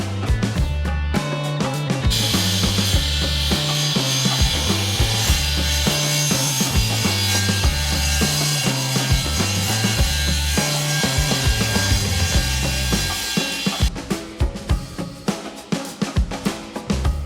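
Rhythmic back-and-forth sawing trims a wooden countertop down by about a quarter inch during a van build, a loud close rasping that runs steadily for most of the stretch before trailing off.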